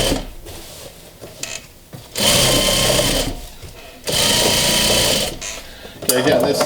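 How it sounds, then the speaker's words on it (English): A sewing machine stitches piping onto sofa cushion fabric in loud, steady bursts of whirring, separated by short pauses where quieter handling sounds come through. "turn your fabric, turn the piping, get that piping in there, corner, and then continue sewing"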